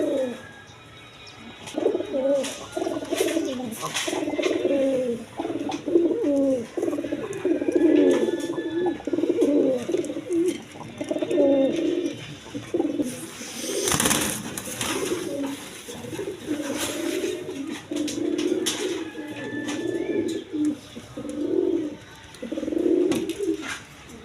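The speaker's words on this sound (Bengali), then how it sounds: "এক পেয়ার বিউটি কবুতর আছে জার্মান বিউটি কবুতর" A pair of German Beauty pigeons at a pigeon farm coos steadily and repeatedly, the low throaty calls close and clear, rolling on almost without pause against a faint background hiss.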